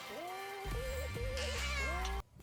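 A cat meows several times in quick succession, drawn-out, wavering calls rising and falling, close and clear, ending suddenly in near silence.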